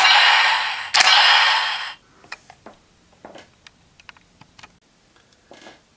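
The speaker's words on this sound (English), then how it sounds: "it has a unique sound for when it opens and closes" A Kamen Rider Zero-One DX CycloneRiser toy henshin belt opens and closes, starting with a loud sustained electronic burst about two seconds long. A string of short, sharp plastic clicks and mechanical snaps follows, close up with no voices.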